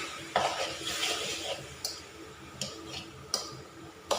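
Sweet dessert filling being stirred and roasted in a pan makes a soft continuous scraping, with a handful of sharp taps and clicks of the utensil against the pan spaced irregularly throughout.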